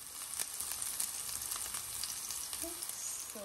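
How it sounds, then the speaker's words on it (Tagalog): Curry leaves sizzle steadily in hot oil for a Filipino cabbage (repolyo) dish, a continuous crackling hiss at moderate loudness with a few faint scraping stir sounds near the end. "And then we'll add some curry leaves. Let them sizzling."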